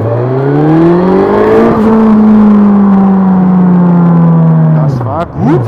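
A Suzuki GSX S1000GT motorcycle accelerates hard, very loud and close, its engine note climbing steadily through the gears in long rising sweeps with a brief dip at each shift and a sharp drop near the end.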